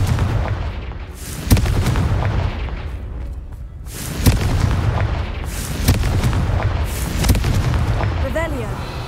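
Confringo explosive curses in the video game Hogwarts Legacy: a handful of sharp, booming blasts land several seconds apart, each followed by a rumbling fade over continuous game ambience.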